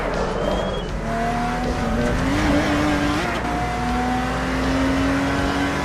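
A Lotus Exige V6 Cup race car screams along loud and close, its engine note climbing, dropping sharply at a skipped gear change and rising again, with faint tire noise underneath.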